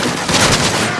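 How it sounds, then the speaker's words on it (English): Gunfire crackles around the B flag during a competitive Modern Warfare 3 video game match, a short dense burst of rapid shots at close range with no talk. "And a little bit of gunfire on the B flag there."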